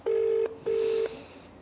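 A telephone placing an outgoing call for a live TV phone-in gives two long, clean ringback tones separated by a short gap, close and clear with no talk over them.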